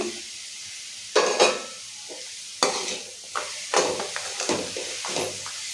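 Mint leaves sizzle softly in a hot pan while a spoon stirs and scrapes in several bursts, with short quiet gaps between strokes.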